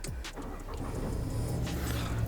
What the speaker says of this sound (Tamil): வண்டி வந்து ஸ்டார்ட் ஆகிடுச்சு.